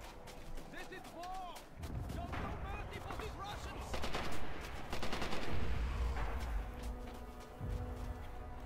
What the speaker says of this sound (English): we are playing some Rising Storm today, and we got an MG42